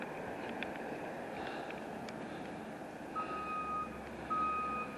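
A truck at a construction site sounds its reversing alarm, a few thin tonal beeps heard at moderate distance over a steady bed of traffic and wind noise, with no voices.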